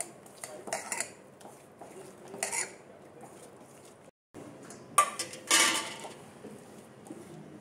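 A spoon clinks and scrapes against a bowl while spices and ginger-garlic paste are stirred together for paneer kurkure, a few bursts of clatter separated by quieter stretches, close and fairly soft.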